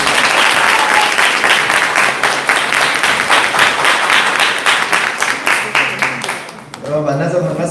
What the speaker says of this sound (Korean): 여러분들 힘찬 박수 부탁드리겠습니다